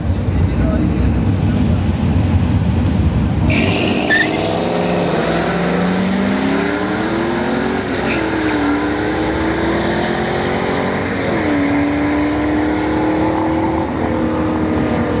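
Drag strip race between a police interceptor car and a WS6 Firebird: after a burst of wind noise, loud engines rev and climb through gears in a sustained roar, heard close alongside wind buffeting and some voices.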